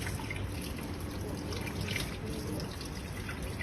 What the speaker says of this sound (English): She is wetting her wrists and hands, keeping her hands lower than her elbows.